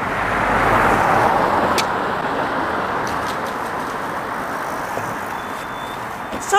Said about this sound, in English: Sorry if it's a bit loud, folks, but we are on a bridge where the traffic going to and from.